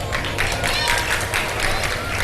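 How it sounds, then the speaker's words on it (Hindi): Studio audience clapping and cheering on an iftar game show, a dense, steady burst of applause throughout with a lively crowd roar beneath. "बहुत सारी तालियां दी इनके लिए"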